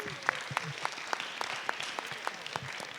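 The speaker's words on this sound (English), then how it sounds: "Let's give them a round of applause" Scattered, sparse clapping from a small audience at a business career panel, individual claps spaced out and fairly quiet over a hushed room.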